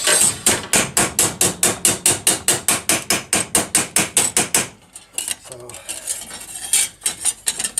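Rapid, evenly spaced hammer blows on metal, flattening it where it has worked up around a bead, ring out loud and close for about five seconds, then give way to softer, scattered clanks and handling noise.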